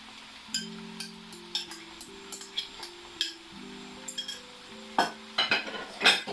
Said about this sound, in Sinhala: එකතු කරලා හොඳට කලවම් කරන්න.